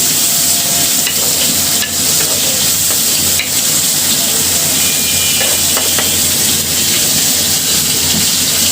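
Onions fry in a pan over very low gas, giving a continuous dense sizzle with occasional scraping stirs and clicks, close and steady throughout without speech.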